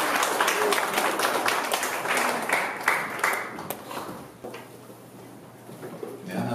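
Church congregation applauding a youth ministry preacher as he comes up to speak, a dense burst of clapping that fades out over several seconds, followed by quieter room sound.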